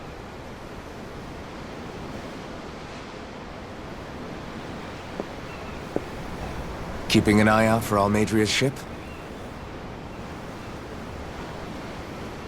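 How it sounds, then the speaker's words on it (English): Steady ocean surf washes continuously along a shoreline in the video game Tales of Arise, a soft, even roar. A voice speaks briefly partway through. "I'm looking at the ocean. The ocean? Yeah. The waves."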